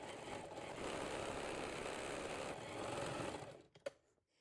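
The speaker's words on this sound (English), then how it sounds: "sew with the 1 centimeter seam allowance right on the top of the bias tape" A sewing machine runs steadily, stitching bias tape onto a quilted tote bag handle for about three and a half seconds, then stops, followed by a brief click close by.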